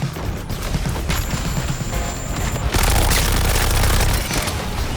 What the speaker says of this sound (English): Artillery! Get out of the way!